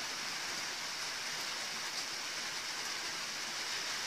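Steady, even rain in Vrancea with no thunder, a dense continuous hiss of drops falling on surfaces, unbroken and fairly soft throughout.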